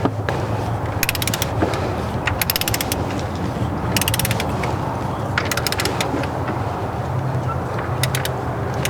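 Torque wrench tightening thermostat housing bolts on a Ford Crown Victoria P71 police car, with bursts of rapid, close ratcheting clicks repeating in short runs over a steady low hum.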